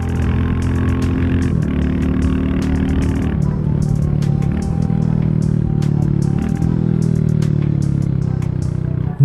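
A Royal Enfield Classic 350 single-cylinder motorcycle engine hums steadily with a low, droning note, close and loud, with no voices over it.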